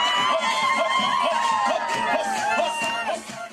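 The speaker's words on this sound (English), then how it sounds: "Dancing and cheering filled the air as various companies paraded their floats through Suva City to the main festival venue at the foreshore." Crowd cheering and whooping at a festival float procession through city streets, a dense continuous wash of voices with shouts rising over it throughout.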